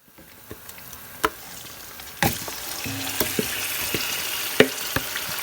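Chicken frying in oil in a pot over a raised flame for biryani, a soft continuous sizzle that swells after a sharp clatter, with occasional spoon knocks and stirring scrapes nearby.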